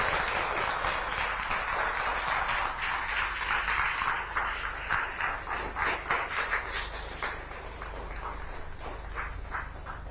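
Students at a school event applaud together, a dense broadband patter of many hands that swells, then thins into scattered claps toward the end, with a low hum underneath.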